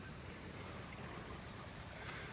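Creek runoff pours across a flooded road in a steady, broadband rush of water, faint and continuous with no other sounds.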